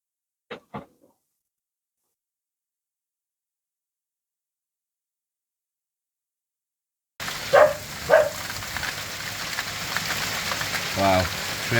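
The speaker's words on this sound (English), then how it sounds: "Wow, it's really coming down now guys. There's some big hailstones." A heavy hailstorm with big hailstones hammers down as a dense, steady clatter that starts abruptly after a long near-silence and a couple of faint knocks, with a voice briefly speaking over it.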